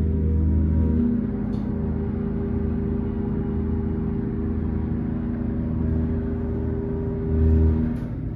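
Hydraulic elevator pump motor running at Austin International Airport, a steady low droning hum with a harmonic whine, close and continuous, swelling slightly near the start and end, with no talk.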